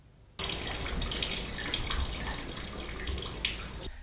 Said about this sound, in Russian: Характерный шум воды в подвале дома